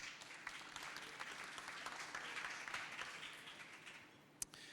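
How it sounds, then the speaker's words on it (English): An audience applauds an artist at a talk with a steady, moderately distant wash of clapping for several seconds, ending with a single sharp tap. "Please join me in giving her a warm round of applause."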